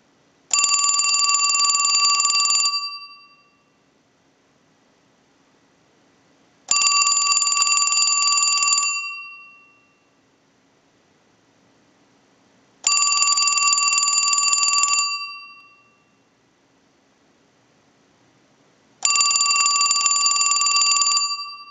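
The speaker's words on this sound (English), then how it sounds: "send a ring cycle like you were getting a call" Western Electric Trimline telephone bell driven by an analyzer ring cycle, four loud two-second bursts of rapid metallic ringing separated by about four seconds of near silence, each burst ending with a brief decaying ring.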